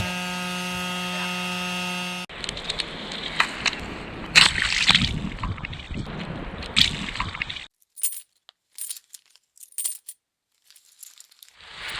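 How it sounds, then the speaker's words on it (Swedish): Rainwater leaking into a sailboat during lockdown in Sines, Portugal: a steady hum gives way to close, irregular drips, splashes and sloshing, with scattered small knocks that fade into sparse patters. "Lite jobbigt när det regnar bara som det gör nu, för det regnar in en massa vatten"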